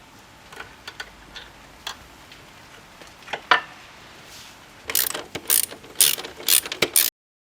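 A ratchet works a linkage screw loose on a Honda CRF300L rear suspension: scattered single clicks at first, then rapid bursts of sharp ratcheting, close up with no talk.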